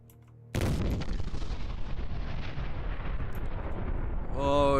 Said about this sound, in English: Firing mortar!